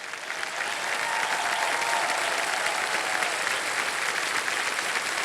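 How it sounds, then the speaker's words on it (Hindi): Studio audience at the KBC quiz show breaking into sustained, dense applause, a steady wash of clapping heard alone for several seconds. "एक बार जोरदार तालियां बज जाएं"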